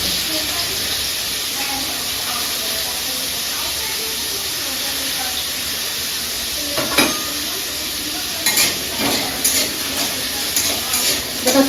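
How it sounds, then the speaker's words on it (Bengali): Ingredients sizzle in hot oil in a pan, a steady close hiss running throughout, with a few scraping stirs near the end and a voice talking briefly. "একটু ভাজা হোক"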